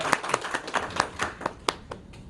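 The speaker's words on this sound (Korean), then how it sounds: "박수 부탁드립니다." Small lecture audience clapping at a startup patent talk, with around a dozen separate, uneven hand claps that thin out and fade toward the end.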